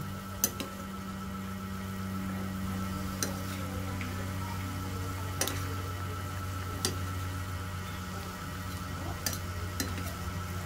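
A pot of menudo stew simmering with a low steady bubbling hum, punctuated by occasional sharp clicks and taps of a utensil stirring against the pot.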